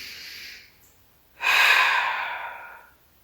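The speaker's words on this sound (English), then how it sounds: "Big full breaths here." A faint airy breath fades out, then a deep, full exhale rushes out loudly and slowly tapers away during a pilates mat exercise.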